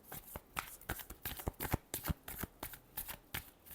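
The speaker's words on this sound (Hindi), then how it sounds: "reading reading last shuffle" Close, crisp shuffling of a tarot deck, a rapid series of sharp card slaps and riffles in an even rhythm, loud and alone with no voices.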